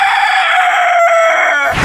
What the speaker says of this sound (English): Roosters are everywhere. Here, meet my alarm clock.